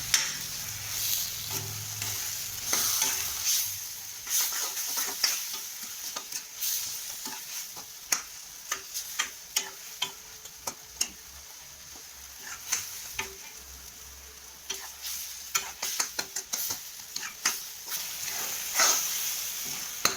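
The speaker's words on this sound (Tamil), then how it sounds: "இப்போ தக்காளி வதங்கியாச்சு." Tomatoes sauté in a pan for urad dal chutney: a continuous hissing sizzle with frequent spatula scrapes and taps, some in quick clusters, heard close with no voices, plus a faint low hum at times.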